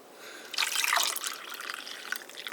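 Water pours into a mug holding French vanilla cappuccino mix, a close, steady liquid splash and trickle that starts abruptly and keeps running, with no talking.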